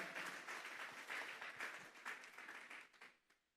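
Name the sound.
congregation clapping as offering to God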